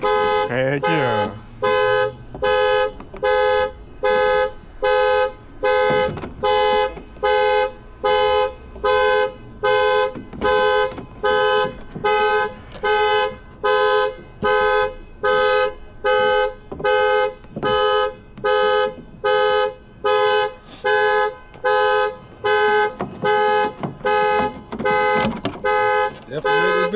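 A Toyota Avalon car alarm blares right up close in a steady, rapid pulsing honk that repeats without a break for the whole stretch, with people talking over it during a lockout.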